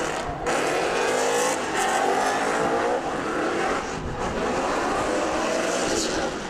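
A drift car on a sight lap around a semi-dry track, its engine a loud, continuous roar that holds steady with slight dips, sliding and revving without any pause.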